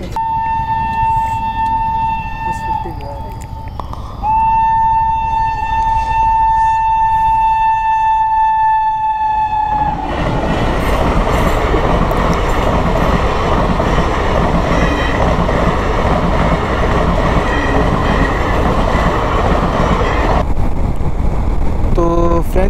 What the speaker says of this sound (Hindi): उन्नाव कानपुर रेलवे क्रॉसिंग, जो कि अब बंद होने वाला है। चलो, ट्रेन निकलने वाली है तो अभी रुकते हैं यहाँ पे।